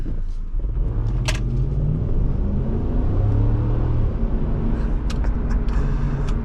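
A 2006 Lexus GX470's 4.7 liter engine heard from inside the cabin while driving, a loud steady low rumble with rising and falling engine tones as it pulls, plus faint clicks.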